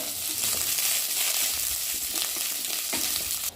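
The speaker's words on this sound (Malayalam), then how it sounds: "കടുകിടാം, മുളകിടാം, കുറച്ച് കറിവേപ്പില ഇടാം" Mustard seeds, chillies and curry leaves hitting hot oil in a pan, an intense close hissing sizzle with crackles, staying loud before dropping off abruptly at the end.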